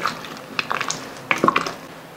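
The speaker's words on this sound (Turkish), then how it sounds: "Tekrar karıştırdık." Vegetable stew with eggplant stirred in a pot, giving soft wet squishes and light scrapes in two short bursts, close and fairly loud.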